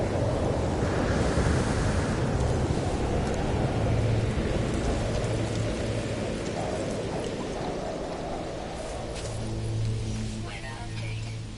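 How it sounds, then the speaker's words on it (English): A thunderstorm rages in a VR video game: a dense, continuous wash of rain and wind with deep rolling rumbles, loud and close throughout before easing slightly toward the end. "Let's see how long is left until that storm is over."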